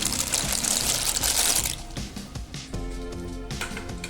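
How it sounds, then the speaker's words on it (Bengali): Dry pasta poured into a pot of hot water, a rattling, splashing rush that drops away into softer drips and bubbling, close by with no voices. "তো বন্ধুরা, আমার জলটা গরম হয়ে গিয়েছে, আমি এখন পাস্তাটা ঢেলে দিচ্ছি।"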